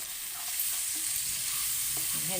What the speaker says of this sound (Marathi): चला आता हे हलवते बघा हे